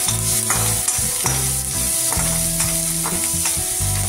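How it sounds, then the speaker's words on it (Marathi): Onion sautés in a pan for rava upma, a steady close sizzle with the scrape and clatter of a spoon stirring every half second or so. "थोडासा कांद्याचा कलर बदलेपर्यंत आपल्याला कांदा परतून घ्यायचा आहे।"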